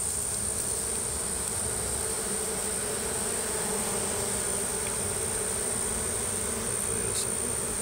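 A honeybee swarm massed on the ground, a loud steady buzzing drone of many bees close by, continuous and unbroken throughout.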